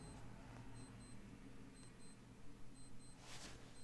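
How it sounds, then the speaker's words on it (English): A faint electronic alarm beeps in repeated short pairs of high tones over a steady background hiss, sounding at a daily scheduled time during a Magic: The Gathering Modern Masters 2017 draft match, with no talking. "There's my daily alarm."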